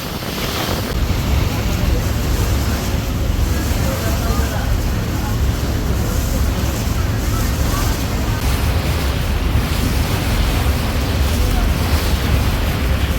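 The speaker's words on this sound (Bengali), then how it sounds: "বাতাস প্লাস ঢেউ একসাথে দুইটার মোকাবেলা করতে হচ্ছে আমাদের ইগল সাত লঞ্চকে" The passenger launch Eagle 7 pushes through wind and waves on a river between Dhaka and Chandpur. Steady roaring wind buffets the microphone over the low hum of the vessel and the rush of water throughout.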